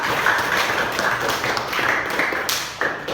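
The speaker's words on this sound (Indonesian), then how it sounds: "Beri tepuk tangan." Classroom applause breaks out in a religion lesson, a sustained burst of clapping from many hands with sharper slaps near the end, fairly close.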